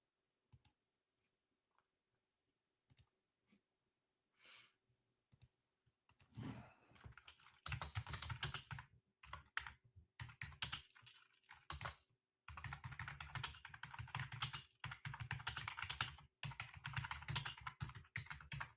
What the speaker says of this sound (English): you may be wondering why I'm typing in possible breakout